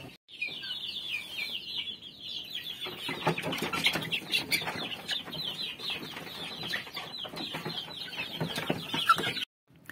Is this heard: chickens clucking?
yes